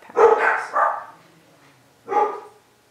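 A dog barks at a package delivery, two loud close bursts in quick succession followed by a third bark after a short pause, with no talking.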